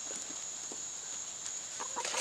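Hens clucking inside a chicken coop, scattered short clucks and murmurs from several birds at close range over a steady background hum, growing busier toward the end.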